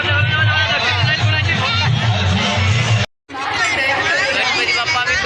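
Dense crowd chatter and babble fill a busy village fair at Brahmapuri, loud and close, broken by a brief cut of silence midway before the hubbub resumes.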